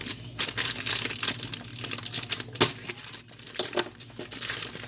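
Plastic packaging around white chocolate squares crinkles and crackles as it is cut open, with irregular sharp crunches and rustles close by and no talking.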